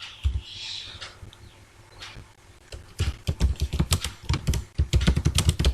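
Typing HTML code on a computer keyboard, a few scattered taps at first and then a fast, steady run of loud, close keystrokes.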